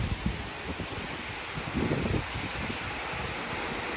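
Strong wind blows steadily outdoors at a market in Salem, with light rain. The noise is a broad rushing roar with some gusty rustling and no speech.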